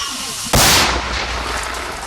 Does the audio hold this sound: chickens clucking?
no